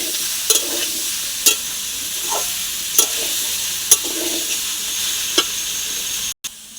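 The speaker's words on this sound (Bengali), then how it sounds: "একটু এটা ভালো করে এর সাথে মিশিয়ে নিয়ে এই মশলাটা দিয়ে দেবো" Spices are stirred into pumpkin chokka frying in a pan. A steady loud sizzle runs throughout, with a spatula scraping the pan roughly once a second.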